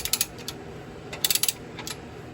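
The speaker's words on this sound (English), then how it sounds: "and then I'll be able to tighten down those bolts." A ratchet tightens control arm bolts on a Sierra truck in two brief bursts of sharp clicking, close by, separated by a short pause, with no talking.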